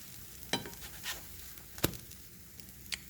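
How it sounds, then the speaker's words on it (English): Pancakes cook in a pan with a faint sizzle as a spatula scrapes and taps now and then, spaced out and quiet. "I'm gonna go ahead and move them around the pan a little bit"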